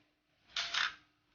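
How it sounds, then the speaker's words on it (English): A 35mm SLR film camera firing a slow shutter: one soft mechanical clack that is held open briefly before a second closing snap, close and isolated in a quiet room. "That's a slow shutter."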